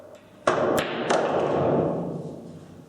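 Pool balls clacking together in the video game Virtual Pool 4, a sharp break-like strike followed by two more crisp knocks in quick succession, then a soft rolling wash fading out; close and clear, no talk.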